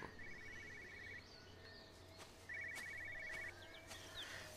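An old telephone rings in a quiet room in the game Everybody's Gone To The Rapture, two short bursts of electronic ringing set apart by a pause, faint over low ambient hum.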